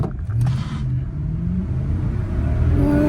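A 2010 Lexus LS460 with past flood damage accelerating hard from a standstill toward 60 mph, its engine and road noise rising as a smooth, steady low rumble with a brief clatter at the start.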